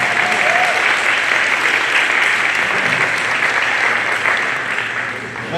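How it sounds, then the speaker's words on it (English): Morning audience at a city announcement of expanded after-school programs for children breaks into sustained applause, a dense, steady wash of clapping that fills the whole stretch and eases slightly near the end. "Let's give ourselves a round of applause for just being here this morning."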